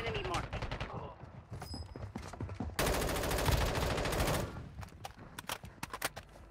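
Rapid bursts of automatic gunfire crackle through a Warzone Mobile match set in Verdansk, with scattered single shots, then a sustained dense volley before choppier shots return; a voice talks faintly at the start.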